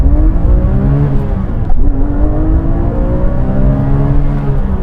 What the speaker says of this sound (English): launch it to see how quick it is from 0 to 60 miles an hour